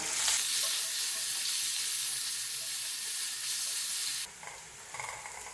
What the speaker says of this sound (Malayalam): ഇനി ഇത് നല്ലപോലെ വഴക്കിയെടുക്കാം